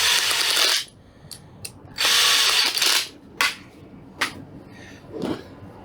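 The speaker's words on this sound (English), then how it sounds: "you can use your little drill, but don't go too crazy" A small power drill drives screws in short bursts, close up, with brief pauses and faint clicks between runs, while replacing a 30 amp RV male plug.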